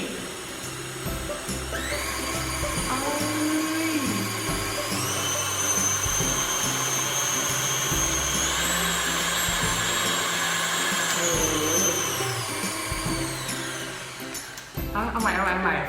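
A KitchenAid stand mixer motor on speed one whirs at a steady high pitch, holding constant then shifting slightly, with faint voices in the background.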